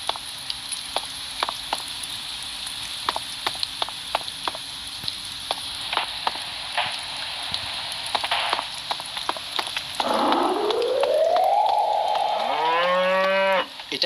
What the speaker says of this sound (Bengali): আর গরুটা চিল্লাচ্ছে কেন ওইভাবে?